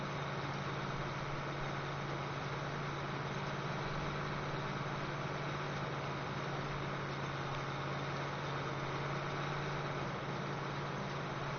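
Old farm tractor pulling a planter across a field, a constant loud engine drone with a strong low steady hum and dense mechanical noise, unbroken and close for the whole stretch.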